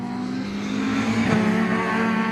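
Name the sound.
race car driving around Anglesey circuit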